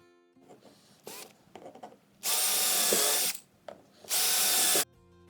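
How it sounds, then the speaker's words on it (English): Power drill with a countersink bit pre-drilling holes in wood cleats in a workshop: two loud, sustained bursts of about two and a half seconds each, broken up by short clicks and handling clatter. "So just pre-drilling the holes here with a countersink."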